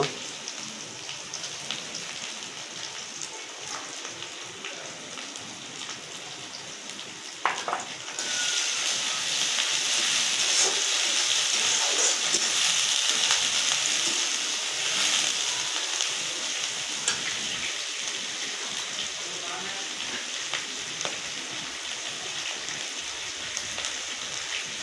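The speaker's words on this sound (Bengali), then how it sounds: "একটু চিংড়ি মাছগুলো তেলে ভেজে নেব" Shrimp frying in oil in a village kitchen, a steady hiss and crackle like rain that swells louder partway through and keeps up continuously, with no talking.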